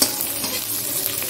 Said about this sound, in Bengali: পেঁয়াজটাকে ভেজে নিলাম